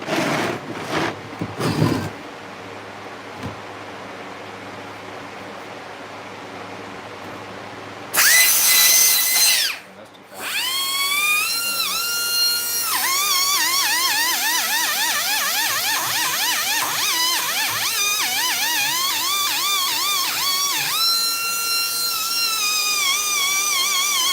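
A handheld power tool sands a metal exhaust port with 60-grit abrasive. After a few short bursts and a brief loud run, it settles into a long, loud whine whose pitch keeps rising and falling as the load changes.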